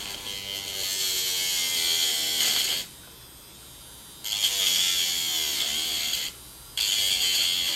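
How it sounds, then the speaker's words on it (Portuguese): Sandpaper is held against a spinning homemade PCB centrifuge base to level it, giving a steady high whirring and grinding hiss that runs for a few seconds, cuts out, resumes, and pauses briefly again. "Com a lixa aqui eu faço aqui a plenagem dele."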